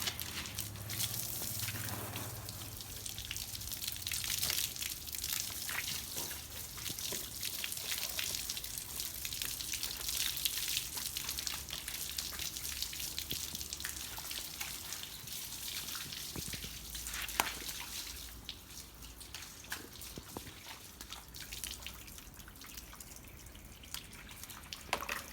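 Water sprays and drips steadily while a Yamaha WR450F enduro motorcycle is washed, a continuous hiss with scattered splashes and patters lasting throughout, close by and with no voices.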